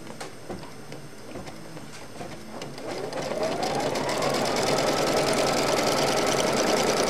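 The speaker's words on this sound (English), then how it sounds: "so now we'll just run a tack down stitch." A sewing machine running a tack-down stitch on fabric for a snack bag, starting with a few slow ticks, then settling into a fast, steady mechanical whir.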